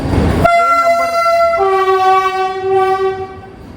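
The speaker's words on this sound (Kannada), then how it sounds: "ನಮ್ದು ಒಂದೇ ಭಾರತ ಟ್ರೈನ್ ಐ ಥಿಂಕ್ ಇದೇ ಇರಬಹುದು ರೀ ಮುಂಬೈಗೆ ಇದೇ ಹೋಗ್ತಿದ್ದಿ" A passing Vande Bharat Express train bound for Mumbai blasts a loud, sustained horn, the blare holding for a few seconds over the rumble of the rails.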